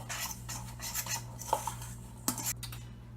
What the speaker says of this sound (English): And then mix that together, and you'll start to get a soft